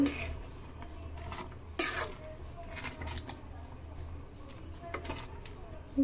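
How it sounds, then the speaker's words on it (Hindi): A spoon clanks and scrapes while stirring rajma in a pot with ketchup, with a few sharp metallic knocks over a soft kitchen background, faint and close. "मिक्स कर रही हूँ"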